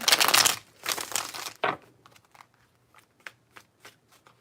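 Tarot cards are shuffled close by, with a few heavy riffling bursts followed by lighter, scattered card taps and rustles, with no voice.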